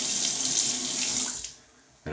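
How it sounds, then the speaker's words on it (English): Tap water gushes from a faucet into containers, a loud close rushing stream that cuts off briefly before the flow starts again. "I fill them with tap water"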